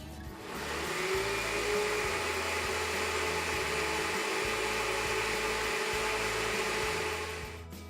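A blender whirs steadily for several seconds while it purees a parsley and cilantro sauce, loud and close, starting and stopping abruptly.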